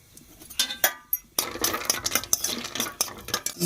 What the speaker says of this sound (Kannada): ಇವು ಗೋಡಂಬಿ ರೀ ಇವನ್ನ ಚಲೋ ಗೋಲ್ಡನ್ ಕಲರ್ ಬರೋವರೆಗೂ ಫ್ರೈ ರೀ